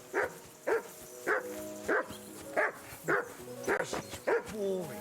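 A dog in Kingdom Come: Deliverance 2 barks again and again in a steady rhythm, with about nine sharp woofs over five seconds. The barks are close and fairly loud, and game music or ambience runs faintly underneath.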